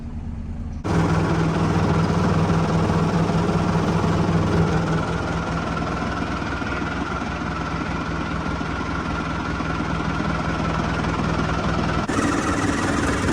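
A Volvo truck engine cranks and fires almost at once, then settles into a loud, steady diesel idle with a deep vibrating rumble, heard close up and running until it cuts near the end.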